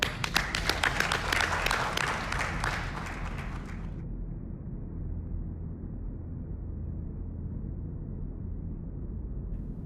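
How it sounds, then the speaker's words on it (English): Crowd applause for police officers, with dense clapping for about four seconds that then drops away abruptly, leaving low background noise. "So you want to thank these officers, like they deserve a round of applause."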